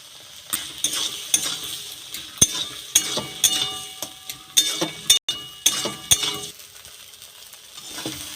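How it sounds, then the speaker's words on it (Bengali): Food is stirred and fried in a salted wok, with a steady sizzle under repeated scraping and clinking strokes of a spatula against the metal, close and fairly loud, with no talk. "এইভাবে নেড়ে চেড়ে আমি ভাজা করে নিয়েছি।"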